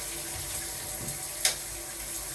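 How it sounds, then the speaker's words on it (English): Water runs from a Moen Engage Magnetix shower in a shower and tub setup, giving a steady, even hiss with a brief louder splash partway through. "if I turn on the water here, you can see that that shower is working"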